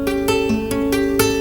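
Electric guitar strumming a bluesy A seventh chord, with a few rhythmic strums ringing out over sustained tones, moderately quiet and without speech.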